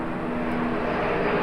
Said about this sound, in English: Disney helicopter.